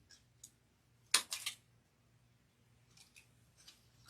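Scissors snip through paper or ribbon pieces for a craft door hanger, giving a few quiet isolated clicks and then a louder cluster of two or three quick cuts, with softer snips near the end.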